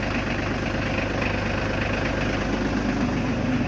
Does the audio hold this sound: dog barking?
no